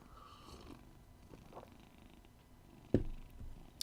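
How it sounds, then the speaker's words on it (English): A cat purs softly and continuously at close range, with a louder burst of breathy rumble near the end, no speech over it. "Don't purr so loud, you'll mess up the sound."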